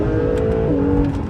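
Acura NSX in Sport Plus mode accelerating hard, a steady loud engine note whose pitch climbs, dips at a shift around mid-clip, then keeps rising, heard close from inside the car with no talking.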